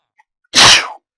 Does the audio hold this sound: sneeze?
yes